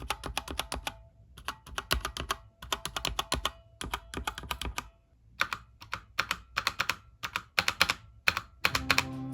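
Typing on a cheap Xiaomi mechanical keyboard with red switches, rapid close clacking keystrokes in quick bursts separated by short pauses, crisp and steady with no talking.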